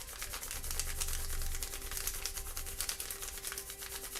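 Pen scratching and rubbing across buckled, bumpy watercolour sketchbook paper during loose architectural ink sketching, a dense continuous rasping texture with fine irregular ticks from the ridges, close and steady throughout.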